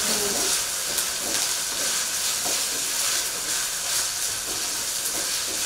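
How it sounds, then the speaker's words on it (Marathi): Soaked poha steaming in a pot for Indori poha gives a steady close hiss with soft bubbling crackles throughout, no talk. "वाफ द्यायचं असं वाफ द्यायचं"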